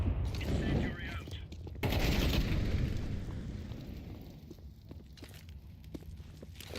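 Video game combat with grenade and flashbang blasts mixed with bursts of gunfire, loud and dense at first and then thinning into scattered shots and footsteps, with a voice speaking in places.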